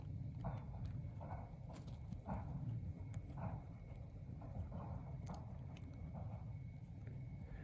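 A young gelding walks under a rider wearing a vosal/scissor hackamore, hooves clopping in a steady, evenly spaced four-beat rhythm against a soft wind-like background, fairly quiet and close.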